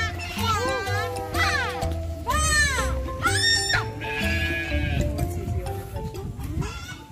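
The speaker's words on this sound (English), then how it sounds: "It's a miniature horse." A miniature horse whinnies in high, wavering calls, mixed with other bleating farm animals and voices talking close by at a farm in Cavite, Philippines.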